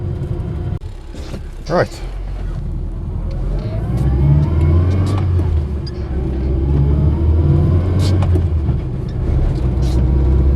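A 1975 Austin Allegro 1100 Deluxe being driven, with a steady rising transmission whine over the engine's mid-pitched drone and cabin rumble, and someone speaking briefly nearby.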